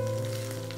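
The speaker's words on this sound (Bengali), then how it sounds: "পেঁয়াজটা ভাজা হতে হতেই আমরা একই সঙ্গে দিয়ে দেব চিকেন।" Chopped onion and boneless chicken pieces sizzle steadily in a hot pan for methi chicken, a close, even frying hiss without any voices.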